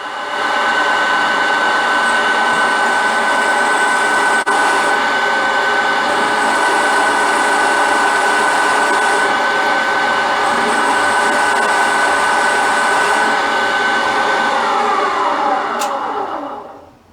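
A machine drills holes to depth in a metal flange in a machining shop. A loud, steady motor whine holds throughout, then winds down in pitch at the end.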